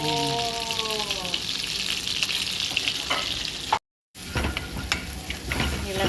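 Butter sizzles and crackles loudly in a hot pan for sweet and sour chicken, a continuous close frying hiss with brief stirring scrapes, a short silent gap, and a voice humming early on.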